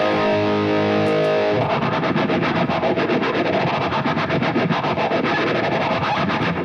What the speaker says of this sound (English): if I want to pop on my phase 90, a simulated phase 90.